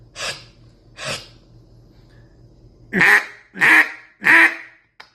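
Two soft breathy puffs are followed by three loud, raspy quacks from a cut-down duck call, evenly spaced and close.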